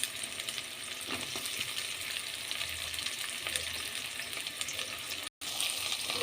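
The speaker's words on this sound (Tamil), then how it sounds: "வெங்காயமும் பூண்டும் நல்லா வதங்கட்டும்." Sliced onion and garlic sautéing in a pan for a bitter gourd gravy, a steady close sizzle with occasional stirring scrapes and a brief dropout near the end, no voices.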